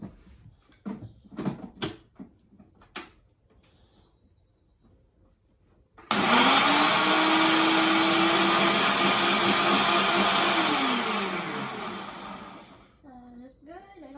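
A kitchen blender runs with its lid on during a kids' science cooking session, starting abruptly as a loud, steady whir that holds for several seconds, shifts pitch as the contents churn, then winds down; brief talk and clatter come before it.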